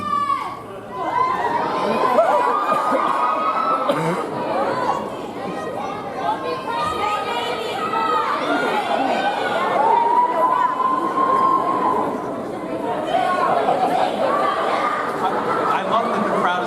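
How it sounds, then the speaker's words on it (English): A large convention panel audience chatters and reacts continuously, a dense crowd murmur with scattered shouts, cheers and a few raised voices rising and falling for the whole stretch. "I love that the crowd is like getting angry."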